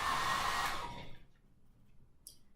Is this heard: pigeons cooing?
no